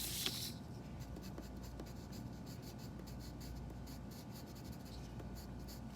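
Colored pencil scratching steadily across paper while drawing a tree, a close, continuous rubbing with quick stroke pulses and no talking.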